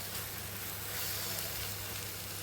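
Marinated paneer frying in ghee in a kadhai, a steady close sizzle with a faint crackle throughout, continuous and even, with no talking.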